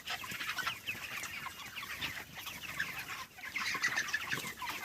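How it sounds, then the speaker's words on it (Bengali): Dense flock of broiler chickens clucking and chirping steadily in a straw-littered poultry farm shed holding about 4000 birds, a continuous busy chorus at moderate distance with no talk. "একটা ফার্মে 4000 করে মুরগি রয়েছে"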